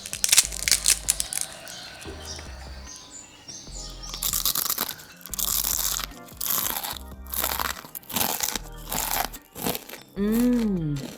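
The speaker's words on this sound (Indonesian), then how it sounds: "Selain renyah dan gurih" Crisp fried betel leaf chips crunched repeatedly during tasting, with a series of sharp, dry bites and chewing bursts recorded up close with no talk.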